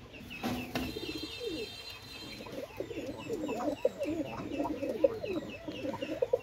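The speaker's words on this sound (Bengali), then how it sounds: "আর নরগুলো অসাধারণ কবুতর।" Pakistani Teddy pigeons cooing close by, repeated soft throaty coos and burbles in an uneven rhythm, with a brief clatter near the start and faint clucking fowl in the background.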